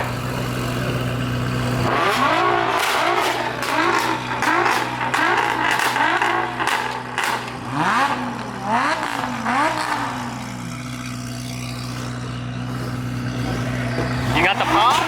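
A loud turbocharged supercar at an outdoor car show revs hard several times in rising and falling sweeps, with crowd chatter and voices around it.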